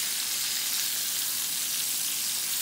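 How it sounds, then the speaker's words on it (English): Beef shank searing on high heat in a little vegetable oil in a hot pan, a steady close hiss and crackle of frying that holds evenly throughout with no talk. "I got to cook it on high heat with just a little bit of vegetable oil in the pan"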